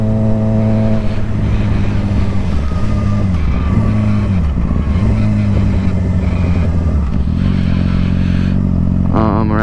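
A car rounds a roundabout, its engine droning loudly and steadily, the pitch sagging and climbing as it slows and pulls away, with a brief higher whine near the end.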